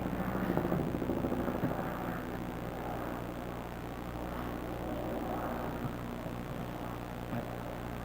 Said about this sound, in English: I hear the plane.